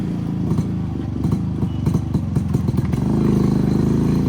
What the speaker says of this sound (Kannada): ಥ್ರಾಟಲ್ ಡೌನ್ ಮಾಡ್ತೀನಿ, ಬೀಟ್ಸ್ ಕೇಳಿ. ಸ್ವಲ್ಪ ಐಡ್ಲಿಂಗ್ ಜಾಸ್ತಿ ಇದೆ ಅನ್ನಿಸ್ತಾ ಇದೆ.